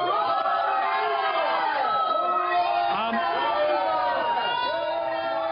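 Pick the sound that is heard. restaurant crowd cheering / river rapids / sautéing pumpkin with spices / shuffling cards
restaurant crowd cheering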